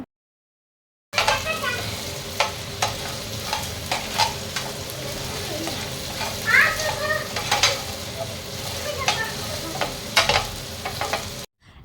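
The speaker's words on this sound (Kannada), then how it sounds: "ಫ್ರೈ ಆಗ್ತಿರುವಾಗಲೇ ಸ್ವಲ್ಪ ಸೋಯಾ ಸಾಸು ಹಾಗೆ ಸ್ವಲ್ಪ ರೆಡ್ ಚಿಲ್ಲಿ ಸಾಸನ್ನು ಹಾಕಿ ಚೆನ್ನಾಗಿ ಫ್ರೈ ಮಾಡ್ಕೋಬೇಕು" Soy sauce and red chilli sauce sizzle in a hot pan during stir-frying, with repeated scraping stir strokes at an uneven rhythm. The sound is close and steady, with no talking.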